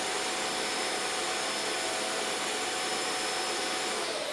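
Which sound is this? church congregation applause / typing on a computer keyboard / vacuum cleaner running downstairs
vacuum cleaner running downstairs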